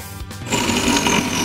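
A Jay Kordich PowerGrind Pro juicer grinds vegetables with a loud, close, buzzing motor drone that starts abruptly and runs steadily for about a second.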